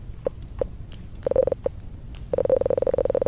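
Synthesized electronic ticking like a Geiger counter: a few sparse, evenly pitched blips, then a short cluster, then a fast, steady stream of rapid clicks over a low background rumble.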